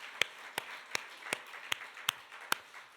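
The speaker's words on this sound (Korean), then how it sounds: "하나님께 박수의 영광." Hands clap in a slow, even rhythm during a church service. There are about seven sharp, evenly spaced claps, fairly faint, over a quiet room.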